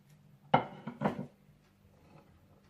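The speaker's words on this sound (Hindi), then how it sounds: "इसके बाद आप डिश में चने और आलू मिलाकर रख लीजिए।" Chickpeas and boiled potatoes go into a serving dish with a couple of soft clattering knocks of utensil against the dish, close and quiet, followed by near silence.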